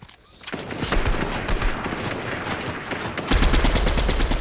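Rapid video game gunfire fills the clip, with dense automatic bursts that grow louder and harder toward the end, heard without talking.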